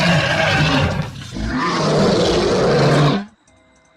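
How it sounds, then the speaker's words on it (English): A lion roars in a long, loud, rumbling growl that swells after a brief dip and cuts off abruptly, leaving near silence. "lion,"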